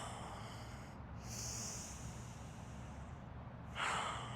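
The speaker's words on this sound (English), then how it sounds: "Let's take a couple of deep breaths so you can rest. And you can even exhale through your mouth." Deep breaths exhaled slowly through the mouth during a beginner vinyasa yoga session, two soft airy breaths separated by a pause, the second slightly louder, over a low steady background hum.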